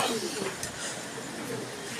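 Pigeons coo softly in a rain-soaked area, a few low, repeated calls standing out above a steady background hiss.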